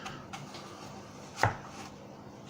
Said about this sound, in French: Et on va couper la pomme en deux.